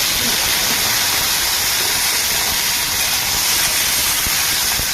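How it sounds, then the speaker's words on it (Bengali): Green plantain pieces fry in oil in a wok, giving a loud, dense, unbroken sizzling hiss that stays level throughout without any talk. "কড়াইতে আরেকটু তেল দিয়ে কাঁচকলা দিয়ে"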